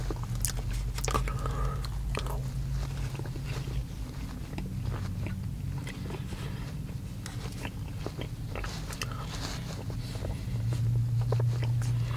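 Max Mallow burnt caramel marshmallows being chewed and bitten close up, soft squishy mastication with small crunchy clicks repeating steadily over a low constant background hum, with no talking.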